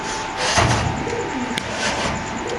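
Pigeons at a market sale give faint cooing amid a loud, busy background wash of crowd noise, with a brief thump or knock partway through.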